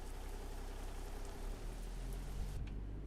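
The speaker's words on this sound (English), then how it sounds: "still raining." Steady rainfall in American Truck Simulator, a faint, even hiss of drops with a low engine drone beneath, continuous and uninterrupted.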